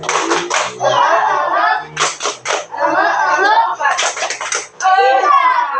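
Children in a classroom perform the tepuk semangat rhythmic clap, sharp bursts of hand claps in quick patterned groups, loud and close, alternating with children's voices and speech between the clapping runs.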